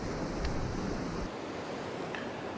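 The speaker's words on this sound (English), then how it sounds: "Got a nice swell rolling in, and that stirs up the bottom and drags stuff up off the rocks there" Ocean swell surging and splashing against coastal rocks where anglers surf cast in the shallows, a steady broadband wash with a heavier rush at the start that eases into a softer continuous roar.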